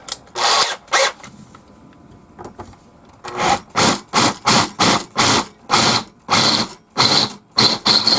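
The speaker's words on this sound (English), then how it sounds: "Countersink those holes for the screws." Power drill countersinking screw holes in wood, a rapid series of short, loud whirring bursts in an uneven rhythm after a quieter stretch of handling.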